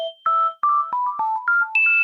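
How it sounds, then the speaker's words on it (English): A pure synthesized sine wave tone stepping through a quick series of pitches, about eight short clean beeps rising and falling, loud and close with no voices. "So say I have a sine wave"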